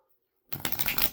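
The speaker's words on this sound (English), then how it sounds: "a shuffle to shift the energy" Tarot deck shuffled once after a moment of silence, a close, quick burst of riffling paper.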